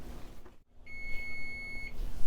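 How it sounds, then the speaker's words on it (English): Kitchen timer beeping while quinoa simmers on the stove, a single steady electronic tone lasting about a second over a low room hum, fairly soft and alone without speech. "now that the timer has gone off, our quinoa has been cooking for 15 minutes"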